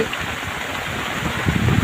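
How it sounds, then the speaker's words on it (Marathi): Rain driven by stormy wind over a farm field, a steady dense hiss of falling water and gusts that swells slightly louder toward the end. "वादळी वाऱ्यासह पावसानं हजेरी लावली"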